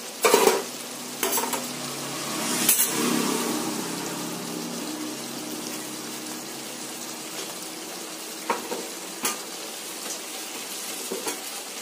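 Potatoes tipped into a pan with partly cooked chicken for chicken kosha, a close hiss of frying under a few sharp knocks and scrapes of a spoon against the pan, then a steady quieter sizzle.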